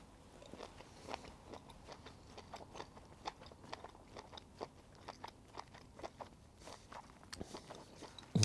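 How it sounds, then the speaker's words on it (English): Crunchy shellfish from a Japanese New Year osechi feast bitten and chewed up close, a steady run of sharp crackling crunches repeating for several seconds with no talk. "That's some really crunchy shellfish."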